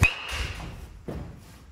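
Crisp, loud crack of a white BBCOR baseball bat connecting with a ball, a short ringing tail after the hit and a softer thud a second later.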